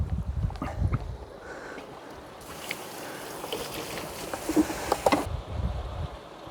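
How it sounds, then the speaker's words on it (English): A half bucket of pond water poured through a koi pond filter: bumps and handling first, then a steady rush of splashing water for a few seconds before it tapers off into knocks. "I think I might just do another half bucket."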